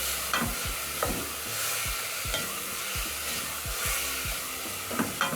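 Tomatoes and carrots stirred in a pot while githeri cooks, a steady sizzle under repeated scraping strokes of a spoon, close and rhythmic, about ten passes with no talking.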